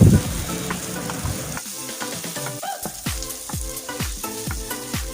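Garlic and onion sauté in a pan for an Ilocano dinengdeng, a steady close sizzle with the clatter of a utensil stirring and scraping the pan at irregular intervals.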